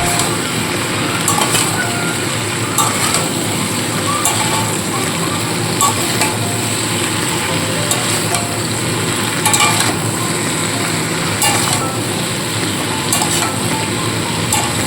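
Mixed winter vegetables with green chillies and peas are stirred in a hot wok, a steady sizzle carrying faint scraping and clinks of the spatula throughout.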